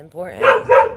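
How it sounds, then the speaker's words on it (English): A pet dog gives two quick barks in a home, close and fairly loud, overlapping a person speaking. "And excuse my dog, sorry."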